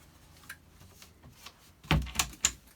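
A cutlery drawer slides open in a motorhome kitchen, with soft light ticks at first, then a close burst of metallic clatter as the knives and forks rattle and shift inside.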